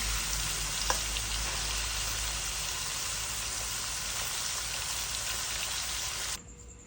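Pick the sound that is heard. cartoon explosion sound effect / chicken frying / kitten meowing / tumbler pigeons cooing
chicken frying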